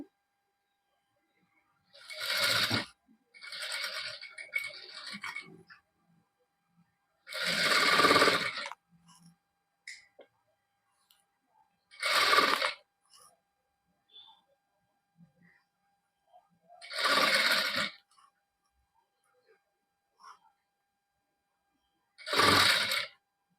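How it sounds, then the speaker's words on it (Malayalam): A sewing machine stitches a cap, running in short separate bursts of rapid mechanical chatter with quiet pauses between, some bursts longer and broken, close and clear with no talk over them. "ജസ്റ്റ് ഇതേപോലെ ഒന്ന് സ്റ്റിച്ച് ചെയ്ത് കൊടുക്കുകയാണ്"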